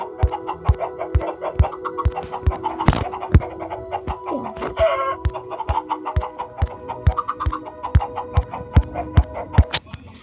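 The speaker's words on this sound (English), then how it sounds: "That's a mighty good enough amount of chickens." Video game chickens cluck and squawk over a steady pattern of sharp, regular clicks and sustained electronic tones, with a couple of louder bursts, during TNT mining.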